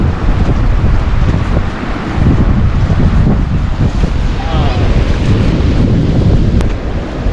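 Loud, constant roar of wind battering the microphone over crashing surf on a clean, flat beach near Mumbai, with faint voices underneath.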